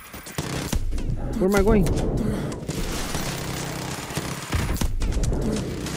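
Rapid gunfire from Call of Duty: Modern Warfare 2 Remastered crackles steadily through a chaotic firefight, a dense stream of shots under an excited player's voice talking over the action.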